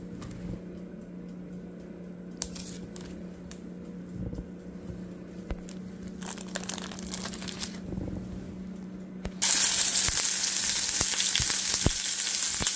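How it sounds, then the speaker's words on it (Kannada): Paneer toasting in oil in a pan, a soft steady sizzle with scattered clicks and scrapes that jumps to a loud, bright frying hiss near the end. "ಇವಾಗ ಪನ್ನೀರನ್ನ ಹಾಗೇ ಎಣ್ಣೆಯಲ್ಲಿ ಸ್ವಲ್ಪ ಟೋಸ್ಟ್ ಮಾಡ್ತೀನಿ."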